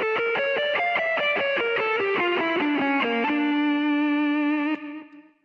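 Fast descending arpeggio sequence on a distorted electric guitar, rapid evenly picked notes stepping downward, then a held final note that rings briefly and cuts off, close and loud, no talking.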